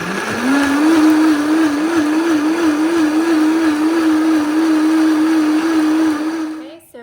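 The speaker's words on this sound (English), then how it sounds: "Pretty high powered blender." A loud high-powered blender on high whirs steadily for several seconds blending red chile sauce smooth, its pitch wavering slightly, before cutting off abruptly.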